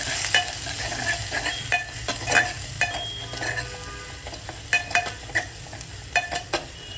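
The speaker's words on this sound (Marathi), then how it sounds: "आता ह्याच्यामध्ये आपण वाटण सोडूया, जे मी शेंगदाणा आणि मिरचीचं वाटण केलं होतं." Peanut and chili paste hits hot oil in a pan, giving a steady bright sizzle and crackle broken by repeated scraping clicks of stirring, close and fairly quiet with no talking.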